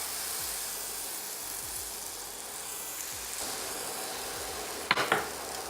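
Galette batter sizzles in a hot frying pan with a steady, soft hiss throughout, and a brief clatter of the pan near the end.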